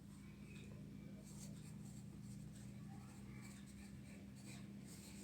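The date is written by hand in a classwork notebook during a junior Montessori lesson, a faint scratching of pen or pencil on paper against a quiet room hum.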